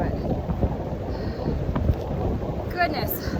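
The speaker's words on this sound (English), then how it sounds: "It is so windy." Strong wind on the open mountain bald of Max Patch on the Appalachian Trail buffets the microphone with a constant low, rumbling roar that rises and falls in gusts.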